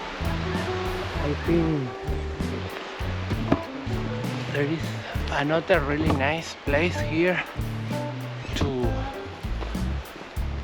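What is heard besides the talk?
river flowing next to a campsite at Lacar Lake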